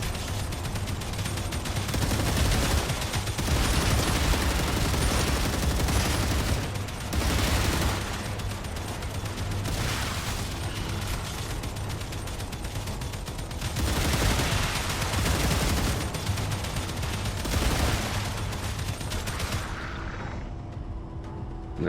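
Sustained automatic gunfire in the StarRupture game, dense rapid bursts running nearly continuously with brief lulls, loud and close throughout before cutting off at the end.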